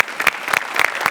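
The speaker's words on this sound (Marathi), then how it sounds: "जोरदार टाळ्या." A studio audience applauding on a Marathi comedy sketch show, a brief burst of dense clapping with uneven loud peaks.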